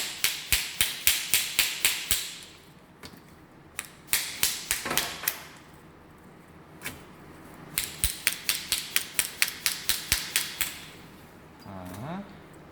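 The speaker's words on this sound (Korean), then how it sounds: "하실 때는 이제 망치나 이런 뭐 단단한 걸로 이렇게 때려 주셔야 돼요" Rapid bursts of sharp metallic hammer strikes knocking investment material off a dental casting ring, in clusters of a dozen quick blows separated by pauses, close and loud, with a brief scraping sound near the end.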